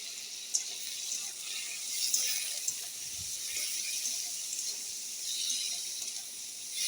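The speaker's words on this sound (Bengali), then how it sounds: "আলুগুলি ভেজে নিচ্ছি" Thinly sliced potatoes with salt and turmeric frying in hot oil, a steady close sizzling hiss that runs without a break, with a few faint clicks and no talking.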